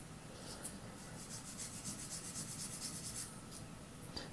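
Quiet, close rhythmic scraping of sandpaper rubbing on a small hard plastic part of a 1/48 scale F-14D model kit, a run of quick back-and-forth strokes in a quiet room.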